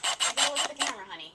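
A small stepper bit grinds in a series of short rasping bursts, about five quick strokes in a row, as it deburrs and chamfers a drilled hole in a bench panel; close and moderately loud, fading off at the end.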